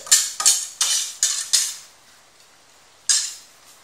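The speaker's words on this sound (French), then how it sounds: "je vais lui enlever de la marmite du couscoussier" Metal utensil scraping and clattering against a couscoussier pot as steamed couscous is lifted out, five quick sharp clinks in a row, a pause, then one more, close and alone.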